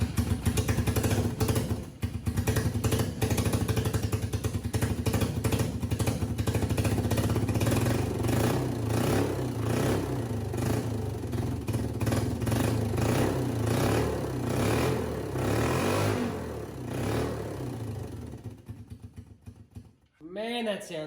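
A Suzuki GS500 motorcycle engine fitted to a mud mower build revs loudly with clattery, uneven bursts and throttle blips for about twenty seconds, cutting out near the end, while people talk nearby.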